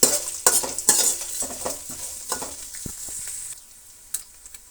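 Curry leaves and onion sizzle in a frying pan in quick bursts, with utensil scrapes and stirring. The sound eases to a quieter crackle toward the end.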